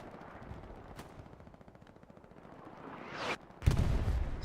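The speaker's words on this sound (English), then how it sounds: "Artillery coming down over here" Artillery shells land in Hell Let Loose, a World War II shooter match: scattered distant thuds and rattling gunfire build into a sharp rising whoosh, then a loud, heavy close blast with a low rumbling tail.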